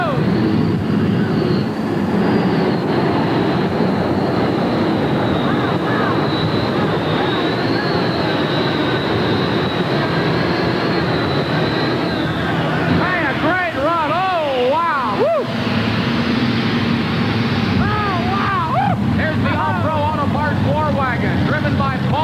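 A modified dragster tractor at a 1988 truck and tractor pull in Hampton, Virginia, roaring at full throttle in a loud, sustained, close drone with a rising whine, an announcer talking over it throughout.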